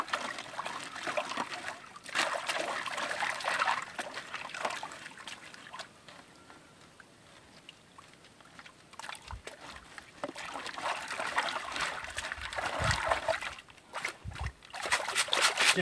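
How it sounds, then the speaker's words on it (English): Water trickles and splashes as clay-caked sapphire gravel is washed and sieved by hand at an outdoor digging site, with sloshing bursts that rise and fade in uneven waves. "sieve again, and repeat the process until you break all that clay up, and wash all those rocks"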